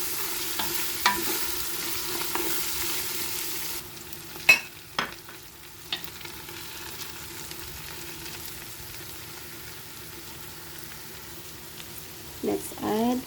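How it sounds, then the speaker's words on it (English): Lentil soup ingredients with parsley being stirred together in a pot, giving soft scraping and sizzling with a few sharper utensil clinks close by, no talking. "Let's mix all together."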